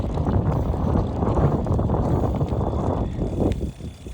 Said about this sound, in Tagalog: Wow, lakas ng hangin ngayon.